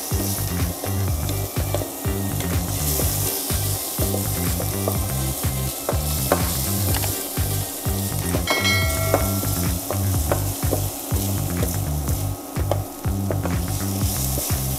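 Chopped onion sautéing in a hot pan before garlic goes in, a steady loud sizzle and crackle with repeated rhythmic stirring scrapes throughout, no voices.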